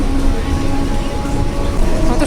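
Inside a moving passenger train on a line via Shantipur, a loud continuous rumble and rattle of the carriage fills the space, steady and close throughout.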